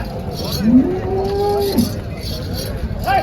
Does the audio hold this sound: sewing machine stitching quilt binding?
no